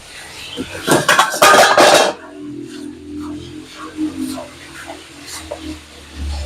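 A metal lid clatters onto a cooking pot of native chicken stewing with papaya in coconut milk, a loud burst of clanking metal at the start followed by quieter kitchen sounds and a low simmering hum.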